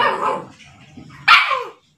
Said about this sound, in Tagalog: pasensya na kayo tong may magulong aso